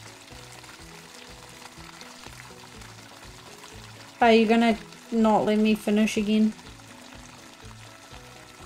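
Bath water for Wilbur the dog in the Animal Shelter game: a steady, low pouring and splashing wash runs throughout, fairly soft, with a person speaking briefly over it partway through.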